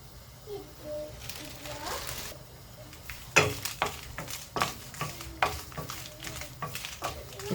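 Curry leaves frying in a pan give a soft, steady sizzle, broken by a run of sharp pops and stirring clinks that come about once a second, with a faint voice in the background.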